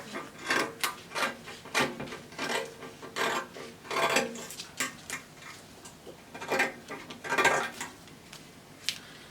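Scissors cutting through two layers of folded cloth for a homemade face mask, a quick series of crisp snips and rasping strokes in uneven rhythm, close and fairly quiet with no talking.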